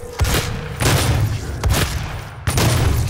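Dense bursts of video game gunfire and booming impacts during a multiplayer match, coming in four heavy waves over about three seconds with constant loud background noise.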